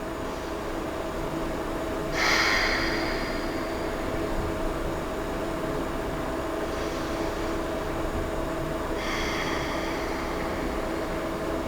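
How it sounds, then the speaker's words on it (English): Deep, slow yoga breathing sounds as two soft airy breaths spaced several seconds apart, close and quiet over a low steady room hum, with no one speaking. "Let's take 2 more deep inhales and exhales here."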